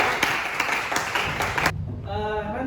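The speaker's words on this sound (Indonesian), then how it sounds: "Tepuk tangan untuk Sandika." A classroom bursts into brief, dense clapping for a student that stops abruptly partway through, and a voice begins speaking right after.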